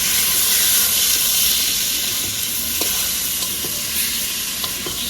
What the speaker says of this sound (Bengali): এখন এই চিকেনটা দিয়ে দেবো।